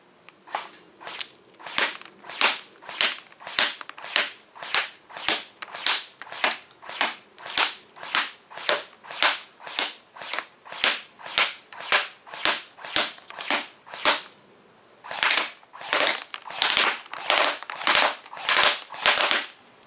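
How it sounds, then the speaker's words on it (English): An APS UAR tan airsoft rifle fires 0.20 g BBs at a target about 80 feet away, a long run of sharp, evenly spaced snapping shots ending in a quicker burst, close and loud. "we'll see how accurate the gun is at 80 feet."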